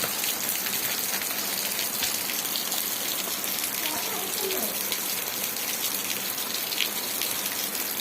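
Heavy rainwater pouring down during the monsoon, a dense, steady rushing roar that fills the whole clip at high volume and close range, with no pauses and no clear talk over it.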